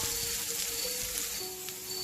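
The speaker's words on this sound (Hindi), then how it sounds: "उसमें मैं ऐड करूँगी हरी मिर्च और प्याज, डाल के इसे अच्छे से" Green chillies and onion dropped into a pan with roasted garlic and ginger, a steady broadband sizzle of frying, close and fairly loud, with no talking.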